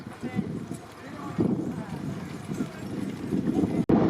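Bullock carts race past in a horse-and-bullock racing meet, a dense stream of hoof clatter and rolling rumble close by, with commentary and crowd voices talking loudly over it the whole time.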